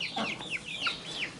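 A hen clucks softly with a quick run of short, rising and falling calls, faint and close by in a quiet farmyard.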